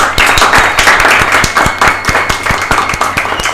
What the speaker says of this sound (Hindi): एक बार पॉपकॉर्न पॉड के लिए जोरदार तालियां